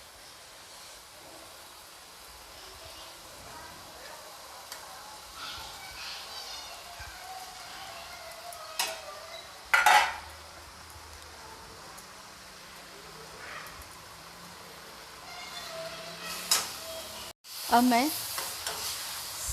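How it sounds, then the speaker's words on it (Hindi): Fried okra and onion are stirred into simmering spices in a pan, giving a soft, steady sizzle with occasional scraping and clanking stirs, while someone speaks briefly over it. "सब्ज़ी को मसालों के साथ अच्छी तरीके से मिला लूँगी"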